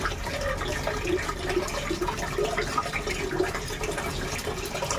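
Water runs and splashes steadily into a cooking pot for soup to go with snapper fish and cucumbers, a continuous close pouring gush with no talk.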